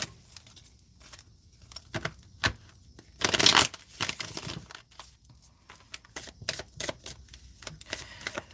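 Tarot cards being shuffled in several bursts of crisp riffling, with a louder, denser flurry near the middle, close and moderately quiet with no talking.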